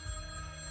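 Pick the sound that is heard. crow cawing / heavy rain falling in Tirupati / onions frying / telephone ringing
telephone ringing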